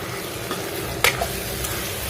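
Plantain slices for vazhakkai varuval frying in a pan while being stirred, a steady close sizzle broken by a few brief scraping knocks of the spoon.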